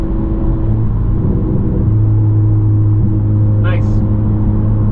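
11th-gen Honda Civic Si with a race tune on flex fuel, engine droning steadily under an acceleration pull, heard loud from inside the cabin with a low constant rumble and a shift partway through.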